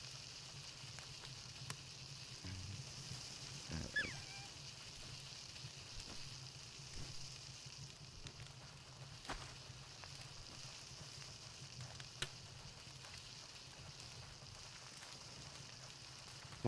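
Food sizzles steadily in a frying pan set over open flames, a soft continuous crackle and hiss running the whole time with a few sharper pops, fairly quiet and close, with no talking.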